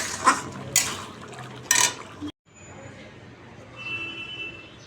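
Spoon scraping and clinking in a cooking pot of papaya and potato curry with peas, three sharp metallic knocks followed by quieter sizzling and faint liquid bubbling, with a voice murmuring in the background.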